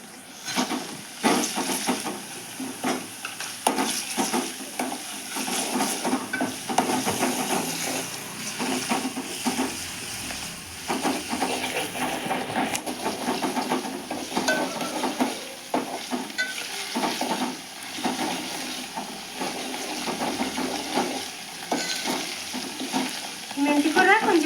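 Fenugreek leaves fry in oil with ginger-garlic paste as the base for a dried prawn curry, a loud, steady crackling sizzle broken by frequent stirring scrapes, with no voices.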